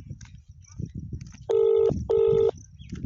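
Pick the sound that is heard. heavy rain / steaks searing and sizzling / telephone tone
telephone tone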